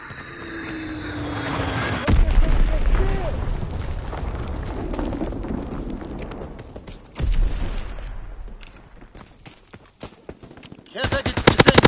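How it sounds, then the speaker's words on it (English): A Fritz X bomb drops in a video game: a falling whistle leads into a heavy blast, a second loud boom follows, and a rapid crackle of gunfire closes it out. "Dropping Fritz X bomb."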